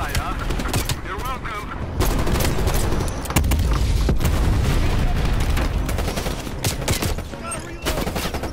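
Gunship gunfire in Call of Duty Black Ops Cold War: sustained heavy automatic fire and booming impacts roll on continuously and loudly, with deep rumbling explosions swelling midway.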